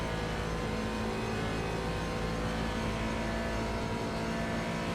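Corvette race car engine in the iRacing sim, a steady dense mechanical drone with a sustained whirring tone held at constant loudness, no talk over it.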